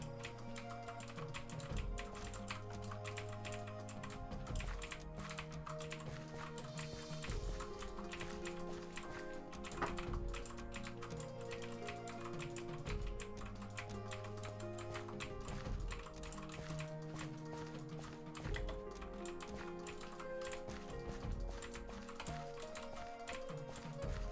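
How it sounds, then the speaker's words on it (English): Typing on a mechanical keyboard, a steady stream of quick clicky keystrokes at close range under a repeating musical backing track, with occasional louder key hits. "the sound of a mechanical keyboard is music to my ears"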